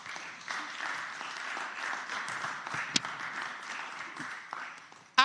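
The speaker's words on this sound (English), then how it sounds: "Can I get an applaud there, please?" Applause fills the Virginia Senate chamber: a steady wash of clapping from many hands, moderately loud and slightly distant, holding even throughout.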